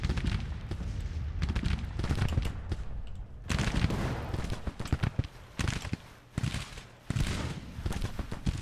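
Infantry gunfire in an Age of Mythology Civil War battle, a dense, continuous crackle of rifle volleys and overlapping shots at mid distance, rolling on without pause with brief lulls between bursts.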